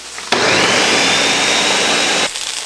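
A blender runs steadily for about two seconds, blending butter chicken sauce, then cuts off abruptly, loud and close with no talking over it.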